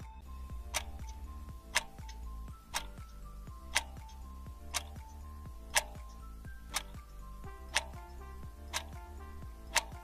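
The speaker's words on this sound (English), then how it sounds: "It's the sound of a tickling clock." A clock ticks in an even, steady rhythm, about one sharp click per second, close and distinct over a faint low hum.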